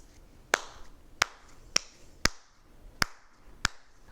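Slow hand claps imitating heavier raindrops, six sharp close claps spaced irregularly about half a second to a second apart, with no talking.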